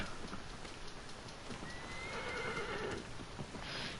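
A horse neighs in the Shadow of the Colossus video game, a drawn-out whinny over a steady background of hooves and ambient game noise, close and fairly loud.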